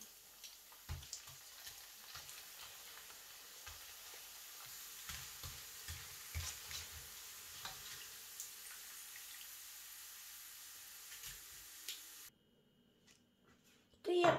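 Thai rice crackers (khao kriap) deep-frying in hot oil give a steady, close sizzling hiss scattered with soft pops and bubbling, running continuously before cutting to near silence at the very end.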